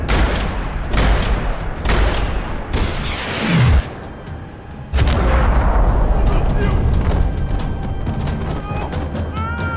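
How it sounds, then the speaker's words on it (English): Loud, rattling gunfire echoes through a parking lot in the video game Max Payne 3, with heavy bursts broken by a brief lull, booming impacts, and a falling whine before the shooting resumes at full intensity. "Another parking lot rattling with gunfire."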